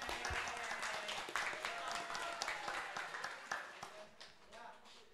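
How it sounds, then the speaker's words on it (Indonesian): Participants at an Islamic college's legal debate competition get a round of applause from the audience. The clapping is dense and moderately loud, with voices carrying over it throughout before it thins out near the end. "beri dulu semangat untuk para peserta dengan tepuk tangan ya."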